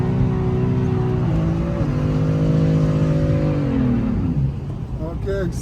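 A BMW M3 engine is held on the throttle while the car drifts on a track. The loud, close engine drone swells in pitch, then falls away.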